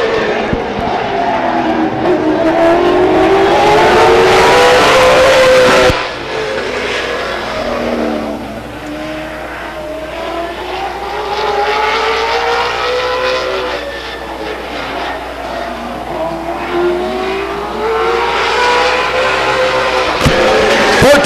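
A race car, the 21X from Modesto, laps Stockton 99 Speedway on an evening qualifying run, its engine droning loud and steady with rising and falling pitch as it passes, a sharp drop midway then building again.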